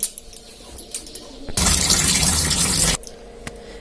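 Sago pearls are rinsed by hand in water for kheer, with a burst of gushing, splashing water lasting over a second and rising loudly over quiet kitchen background before cutting off.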